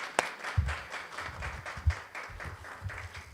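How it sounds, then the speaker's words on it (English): A small audience applauding educators at a press conference, scattered faint claps with a few louder taps, light and sparse throughout. "Let's give them a round of applause."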